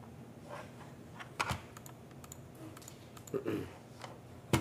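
Close, quiet typing on a computer keyboard indoors, an uneven patter of small key clicks with a few sharper, louder presses scattered through.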